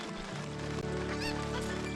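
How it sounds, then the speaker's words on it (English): A chicken in the Zelda: Ocarina of Time video game gives short, honking clucks over steady game music with sustained tones. "No, chicken."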